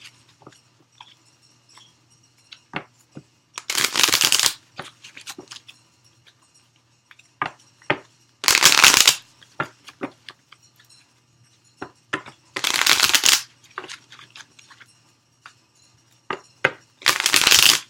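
Tarot cards are shuffled in several loud riffling bursts, separated by soft taps and handling clicks, close up and without talk.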